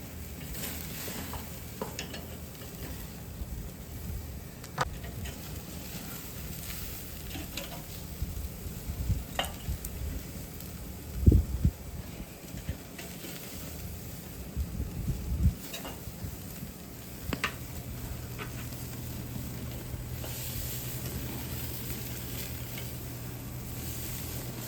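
Japanese A5 Wagyu steaks searing over an open flame on a barbecue grill, a soft steady sizzle and crackle with occasional sharper pops and spits, fairly quiet and close, no talking.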